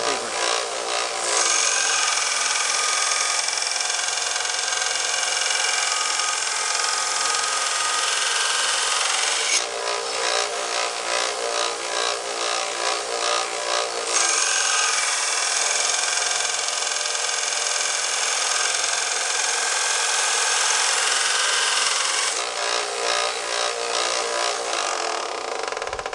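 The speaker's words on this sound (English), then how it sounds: "Higher grit, finer sandpaper." A steel knife blade being made by stock removal is sanded by hand with finer, higher-grit sandpaper, giving long, steady rasping strokes with brief pauses between passes, loud and close.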